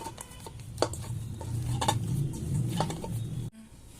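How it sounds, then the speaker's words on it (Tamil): Soft, squelching hand-kneading of makkan peda dough with ghee in a bowl, close and quiet with irregular sticky presses and faint clinks, ending in a brief silence. "போட்டு நல்லா பிசைஞ்சிக்கிறேன்."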